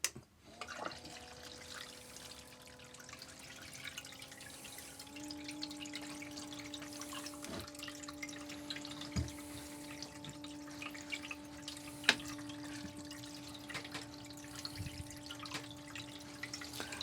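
Water running through a gold sluice box set at about 7 degrees over wetted paydirt, a faint, steady trickle and wash with a low constant hum and occasional soft drips.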